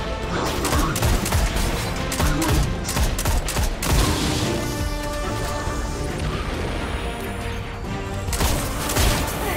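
Dense bursts of gunfire from the video game Destiny 2 crack and rattle in rapid volleys, with heavier impacts and explosions layered over a loud, busy game mix.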